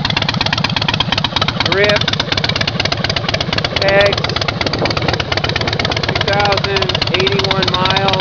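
A 2005 Harley-Davidson Dyna Low Rider with fuel injection and a Vance Hines exhaust idles steadily with a loud, continuous throbbing rumble while someone speaks briefly over it.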